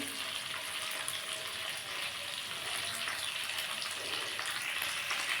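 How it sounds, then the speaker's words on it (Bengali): Cauliflower sizzles and crackles steadily in hot oil in a pan, a continuous frying hiss at moderate volume, with no one speaking. "ফুলকপিটা গরম তেলে দিয়ে দিয়েছি এবার আমি ফুলকপিটা ভেজে নেবো"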